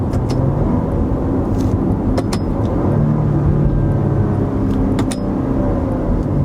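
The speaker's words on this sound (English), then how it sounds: "So let's give these paddle shifters a try. So they are pretty laggy on the upshift. Let's see how the downshift is." A 2017 Maserati Levante downshifting through its paddle shifters while driving, heard from inside as a steady low engine and road rumble with faint clicks from the paddles.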